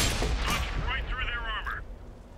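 A tank gun fires at an M6A2E1 heavy tank in a video game: one heavy boom opens, then a brief whistling, wavering ring fades out.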